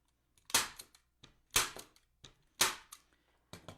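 A staple gun fires three times, fastening a sign onto a spring wreath. Each sharp, loud snap comes about a second apart, with lighter clicks of handling in between.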